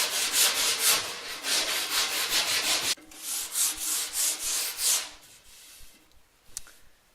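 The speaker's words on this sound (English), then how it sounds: "It doesn't take long with fairly rough sandpaper." Rough sandpaper rubs back and forth over a wooden tool handle in brisk, rhythmic strokes. The strokes pause briefly, resume, then give way to quieter handling noises.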